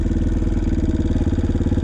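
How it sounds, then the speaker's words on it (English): A dirt bike engine runs steadily near the microphone, its fast, even putter holding a constant idle-like rhythm with no talk over it. "when I come to a stop, you can hear the engine start to die"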